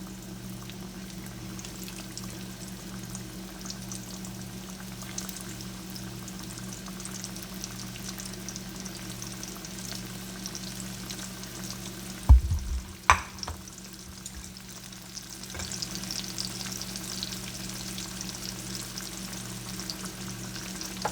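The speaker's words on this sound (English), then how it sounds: "I'm just going to go ahead and drop the fish in one at a time. I'm just going to fry this for a couple minutes each side." Pieces of black drum fish fry in hot oil with a steady, soft sizzle throughout, broken near the middle by a couple of sharp clatters from the pan, then the crackle swells slightly louder toward the end.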